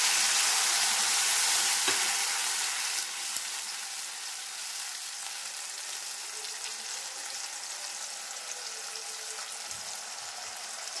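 Spices fry in hot oil for chicken maharani, a loud, close, continuous sizzling hiss that eases slightly over time, broken by faint stirring scrapes, with no talking.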